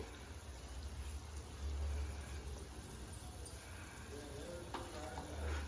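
Bansi rava semolina roasting in a pan while being stirred, a faint continuous dry sizzle with soft scraping from the spoon, no voices.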